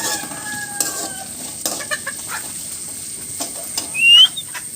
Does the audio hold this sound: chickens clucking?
yes